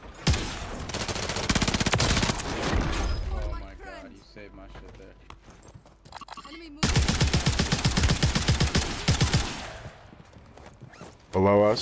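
Automatic gunfire in the battle royale shooter Warzone rattles in two rapid bursts, loud and close, separated by a quieter stretch where a person speaks over faint background game sounds, then a final short burst.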